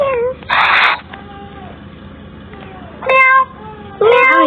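Cartoon cat meows in the Stickman Party mobile game, several short, bright mewing calls in separate bursts over a quiet game backdrop.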